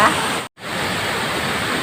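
Kuang Si waterfall near Luang Prabang rushes as a steady, dense hiss of falling water, broken by one brief silent cut before the roar resumes unchanged.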